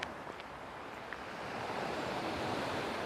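Steady broadband wash of waves breaking at a small hidden beach near Vlorë, Albania, building slightly louder partway through, with faint wind noise and no talking.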